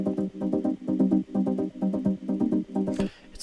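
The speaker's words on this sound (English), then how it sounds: "I think I have like three or four synths playing." Three or four layered saw synths play chords together in a bouncy, evenly pulsing rhythm of short stabs, loud and close, ending with a brief noisy burst.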